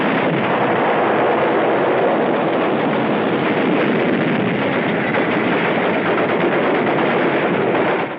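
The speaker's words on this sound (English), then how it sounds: "Jap fire pins us down for hours" Japanese gunfire rakes Tarawa beach in 1944, heard as a relentless, loud, muffled roar of continuous shooting that barely lets up before cutting off at the end.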